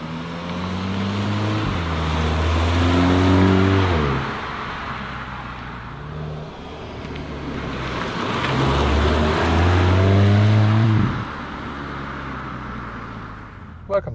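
Volkswagen Golf 8 GTI in sports mode pulling hard through the gears, rising engine note stepping up and dropping at each shift, twice over, loud and close from inside the cabin, with a voice talking over it.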